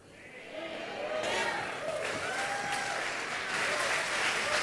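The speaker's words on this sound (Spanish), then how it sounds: "Si ese es el aplauso para tu padre." A church congregation applauds at a preaching service, sustained clapping that swells and holds fairly loud for several seconds without a break.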